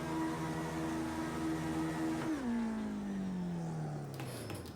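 A BAC Mono race car engine in Project Cars 2 at Bathurst, droning steadily at high revs before dropping sharply and winding down in pitch as it brakes and downshifts from fifth gear, loud and continuous.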